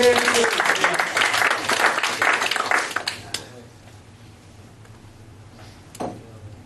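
Audience applause at a live comedy stage show, a dense burst of clapping that runs loud for about three seconds, then cuts off to near quiet with only a faint sound or two afterward.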